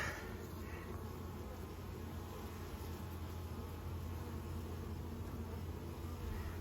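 Honeybee foragers return to a hive, their buzzing forming a faint, steady hum that holds evenly throughout.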